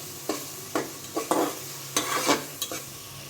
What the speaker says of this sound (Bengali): কুচি করা শাকগুলো দিয়ে একটু উল্টে পাল্টে নেড়ে দিয়েছি